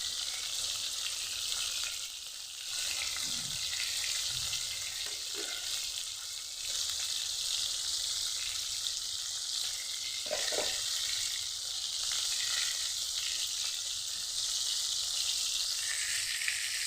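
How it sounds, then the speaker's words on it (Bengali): Shing fish, a local catfish caught from a field-side pond, frying in oil in a pan: a steady, dense sizzle runs throughout, with a few soft scrapes and knocks from turning the pieces. "মাছ ভাজা কত দূর হয়েছে?"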